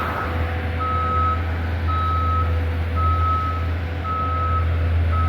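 Large snorkel lift truck reversing on a snowy city street, its backup alarm sounding a regular series of loud, evenly spaced beeps over a constant low diesel engine rumble.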